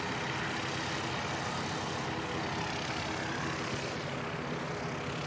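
An Air Chathams airliner taxis at Christchurch Airport, its engines a steady, broad, loud roar that holds level throughout with no voices.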